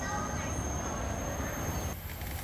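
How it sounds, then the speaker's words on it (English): A small electric tourist train rumbles along in Taiping, Malaysia, a steady close-up hum and rolling rattle with a faint high whine, easing slightly near the end. "get on board a little electric train here"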